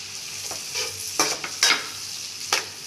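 Green chillies and onion frying in a pan for paneer bhurji, a soft continuous sizzle broken by several sharp scraping bursts of a spoon stirring against the metal, close by with no voices.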